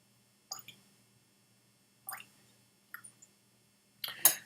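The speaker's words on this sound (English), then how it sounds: "Wonder what a little bit of water will do." Water dripped into a glass of Glen Scotia 12-year-old Campbeltown single malt whisky, four soft, separate drips and small splashes spaced through a quiet room, the last one fuller and louder.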